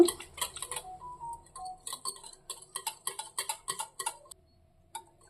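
Whisking curd (yogurt) smooth in a cup, a quick run of close, rhythmic ticking clinks of the utensil against the cup that stops near the end.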